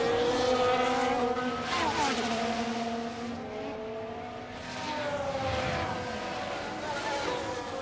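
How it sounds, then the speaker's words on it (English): Race car engines roar continuously at close range in F1 Manager 2026 at the Netherlands circuit, with rising and falling whine and a brief, faint tyre squeal half-buried in the engine noise. "I just heard the very brief echoes of a tyre squeal for about half a second."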